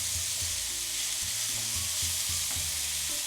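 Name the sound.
sautéing rice pilaf with artichokes in a pot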